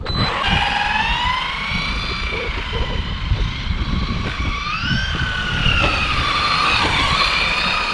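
A Maverick Quantum R radio-controlled car with SP Racing wheels drives ovals on a parking lot, its electric motor whining loudly and steadily with rising and falling pitch as it accelerates and eases off, close by and with no talk.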